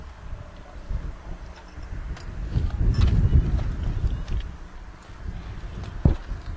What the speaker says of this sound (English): As the wind picks up, so does my paperwork.